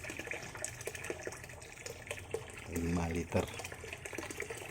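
Hot water pours and splashes into grated coconut for making homemade coconut cooking oil, a short gushing burst midway through, with a person speaking throughout.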